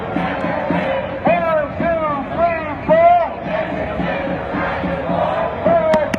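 A protest march crowd at Playhouse Square chants and shouts continuously, with loud rising cries standing out over dense babble close by.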